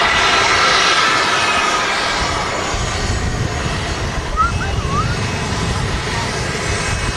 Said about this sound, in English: The 195 E2 jet. With the Pratt & Whitney 1000 series engines.